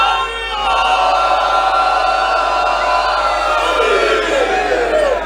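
A large crowd at a religious celebration gathering in Multan chants a slogan in unison, loud and sustained, with many voices blending into a continuous roar that swells over several seconds.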